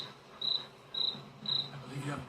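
A cricket chirping sound effect gives three evenly spaced, clear high chirps, with a faint low murmur toward the end.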